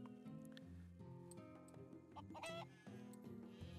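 Chickens cluck and chatter in the video game Craft the World, several short clucks over a busy game music and effects bed, fairly loud and close, with no talk.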